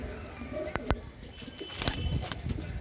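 Male Madrasi pigeons giving soft, low coos close by, broken by a few sharp clicks and light rustling, with faint voices murmuring in the background.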